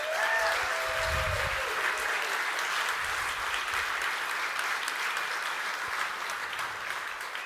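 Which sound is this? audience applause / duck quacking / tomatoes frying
audience applause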